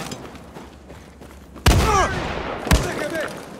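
Gunfire in the video game Far Cry 6: two loud, sharp bursts of shots with ringing echoes and ricochet-like whines over quieter ambience, with voices shouting in the mix.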